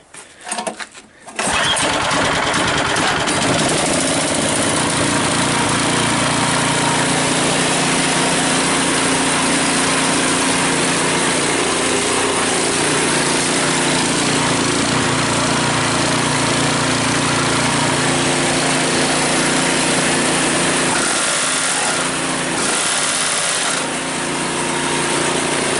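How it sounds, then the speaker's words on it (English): A Cub Cadet 5 24 snowblower engine starts and then runs steadily at a loud, buzzy pitch, with a constant rattling churn of rubber pellets inside it. "Makes that sound because of the rubber pellets running around in there."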